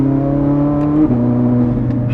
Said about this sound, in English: It's got a nice little pop and burble in the exhaust.